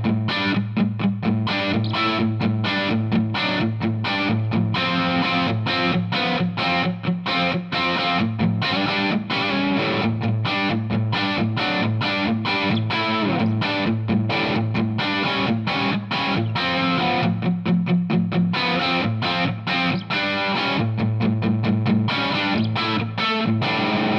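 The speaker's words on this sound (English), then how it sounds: "Classic rock kind of riff, kind of." A distorted electric guitar through a Laney Lionheart L5 Studio Class A valve amp's drive channel chugs through a steady classic rock riff, loud and up close, with rhythmic chord stabs running the whole time.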